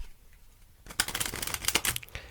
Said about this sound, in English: give the deck a cut and shuffle